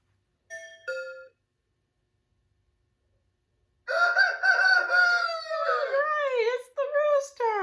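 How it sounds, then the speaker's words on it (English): A rooster crows loudly and nearby in a long, wavering cock-a-doodle-doo, preceded by a brief two-note chime and a pause of silence. "Right, it's the rooster."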